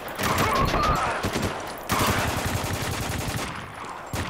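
Shotgun blasts from the video game Spec Ops: The Line, two loud booming shots about two seconds apart, each followed by a rattling decay amid dense in-game combat noise.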